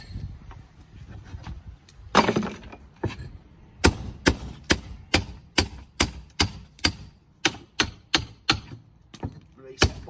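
Cutting out a mastic silicone seal on brickwork, a series of sharp tapping and chopping strikes at a steady, uneven rhythm, close and fairly loud, with faint talk in the background.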